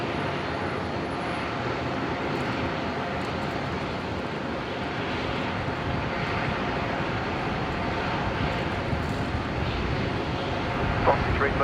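Qantas Boeing 737 airliner heading to Melbourne from Brisbane airport, heard as a steady, broad engine roar held at an even level throughout, with a voice talking over it.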